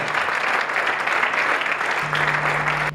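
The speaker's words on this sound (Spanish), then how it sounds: "Vamos a dar un aplauso al Señor" A church congregation applauds during a service, a dense, steady wash of clapping that carries evenly for the whole stretch with no voices standing out.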